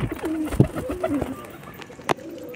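Domestic pigeons coo close by in a loft where birds are kept and breeding, with soft repeated throaty calls and a couple of sharp clicks or wing flaps, no talking.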